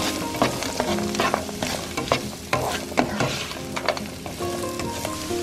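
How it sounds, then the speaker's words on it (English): Mixed vegetables for hot spicy ginger fried rice sauté in a pan, with a steady close sizzle broken by frequent clattering, scraping stirs at an uneven rhythm, loud and without any talking. "So next you will add your other vegetables to the mix and also proceed to sauteing them"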